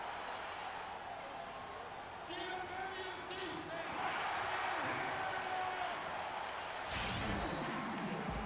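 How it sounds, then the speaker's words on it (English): A virtual arena crowd in an NBA 2K basketball game set in Indianapolis for a Pacers game murmurs and swells softly beneath a commentator's voice, with a brief louder surge toward the end. "The crowd has assembled in Indianapolis, Indiana, looking for a Pacers win today."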